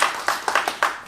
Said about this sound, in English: let's give that young lady a round of applause